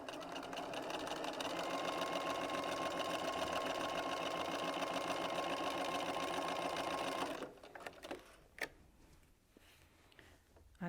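A sewing machine stitches a quarter-inch seam on quilted patchwork in a steady, fast whirring run for about seven seconds, then stops, leaving a few scattered clicks and handling noises.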